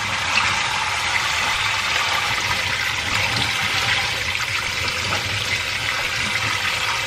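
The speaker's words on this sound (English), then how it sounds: "just keep on, you know, rinsing those, bring them around" Oxtails rinsed under a running kitchen tap, a steady close rush of water splashing over the meat and into the sink, continuous and fairly loud with no voices.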